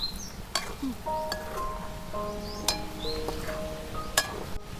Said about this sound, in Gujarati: બધું સારી રીતે મિક્સ કરી નાખશું